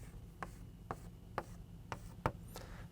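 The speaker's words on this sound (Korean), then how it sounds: "자, 한번 써볼게요." Chalk or marker strokes on a board during a lecture, five or six brief scratchy taps and scrapes spaced about half a second apart, soft and close in a quiet room without talk.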